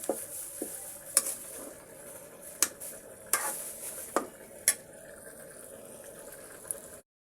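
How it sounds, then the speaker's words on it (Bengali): Chana dal halwa with sugar, cardamom and cinnamon stirred in a pan: a handful of sharp spatula knocks against the metal over a faint low bubbling, close and fairly quiet. "হালুয়াটাকে এখন আমি সুন্দর করে নেড়ে নিচ্ছি"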